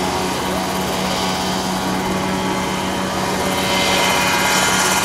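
Steady, loud rotor and small-engine drone from a Mosquito ultralight helicopter holding a precision hover at a rotorcraft fly-in, continuous throughout with a slight swell near the end.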